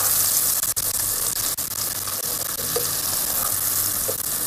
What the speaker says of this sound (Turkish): Orada biberlerimle birlikte kokusu çıkasıya kadar kavuracağım.